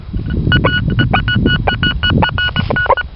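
A Kvazar ARM metal detector emits rapid beeping tones in quick irregular bursts, close and fairly loud, over a rough scraping and rustling background while searching for a coin.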